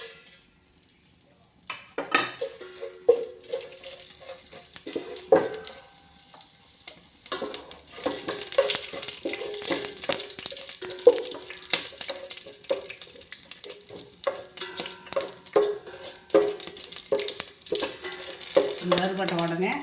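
Bay leaf, cinnamon, cloves, fennel and cardamom dropped into hot oil for a vegetable biryani, giving bursts of crackling sizzle with clinks of a spoon against the pot, starting quiet and turning busier and louder.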